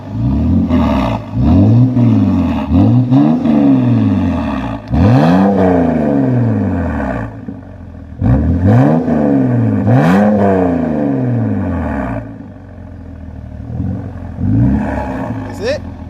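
A BMW 330xi (E90/E92) with a muffler delete revs repeatedly, loud and close, its engine sweeping up and falling back in a series of sharp blips with short pauses between them.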